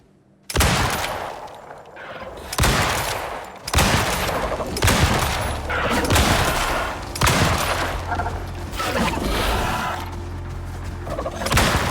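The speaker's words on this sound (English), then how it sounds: "Let's try out the explosive ammo this time." Rapid bursts of explosive-ammo gunfire in the open-world shooter game Prometheus, loud and dense, repeating in several volleys with brief gaps and booming impacts between them.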